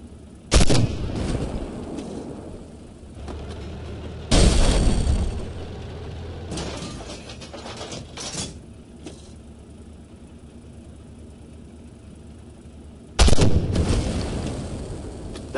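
Tank cannon fire and explosions in the Armored Warfare tank combat video game: four loud booming blasts, each followed by rumbling decay, with engine noise and battle ambience in between.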